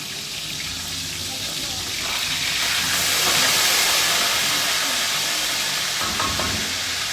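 Steady sizzling hiss of fish frying in a hot pan, close and continuous, swelling slightly in the middle, with people talking faintly in the background.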